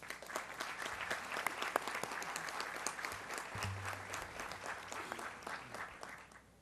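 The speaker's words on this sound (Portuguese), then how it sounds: "eu peço primeiro uma salva de palmas para o nosso Luiz Fernando" Faint, steady applause from an audience at an awards ceremony, many overlapping claps sustained throughout and tapering slightly at the end.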